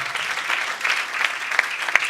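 A church congregation applauding in praise, a dense, loud and continuous clapping that fills the whole moment without a break.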